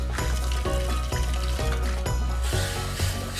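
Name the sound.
gravy sizzling in a pot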